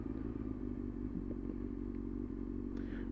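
A small motorized vehicle rides along at night with a steady low engine drone and light rattling, close and continuous, with no talking.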